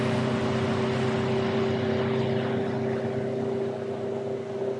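A fishing boat's motor runs steadily with a continuous low droning hum and a broad wash of noise, close and loud throughout.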